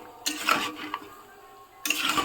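Chicken being mixed with spices and oil in an unheated kadai, two bursts of scraping, clinking stirring separated by a quieter pause, close and moderately loud.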